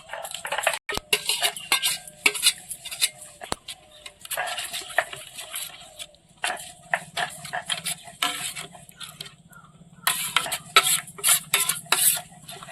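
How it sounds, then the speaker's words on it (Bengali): A cashew and poppy seed paste is stirred into masala for a cauliflower roast, with rhythmic metal-on-pan scraping and clattering strokes in bursts and a faint sizzle beneath. "এবার কাজু আর পোস্ত বাটাটা এর মধ্যে দিয়ে ভালো করে মিশিয়ে নেব।"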